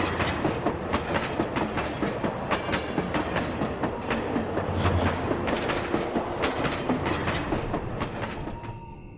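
A cartoon train runs along its rails with a steady, dense clickety-clack rhythm, loud and continuous on its own, easing slightly at the end.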